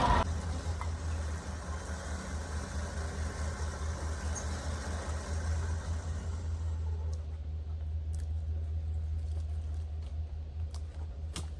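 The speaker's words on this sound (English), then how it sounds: "I'm actually quite impressed that the Chevy's actually holding its own here and winching out the log" Chevy truck engine running steadily under load while winching a big log out of the woods, a continuous low rumbling drone with a few faint clicks, no talking.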